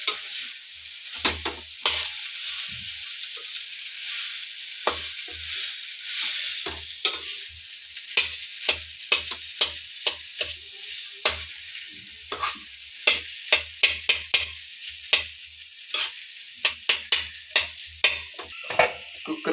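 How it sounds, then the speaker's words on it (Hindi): Chili and ginger are stirred together in a hot pan, with steady sizzling frying and repeated sharp spoon scrapes and clinks, quickening toward the end, and no talking. "मिर्ची और अदरक साथ में डाल दिए हैं, तीनों चीजों को इसी तरह मिक्स करेंगे पहले।"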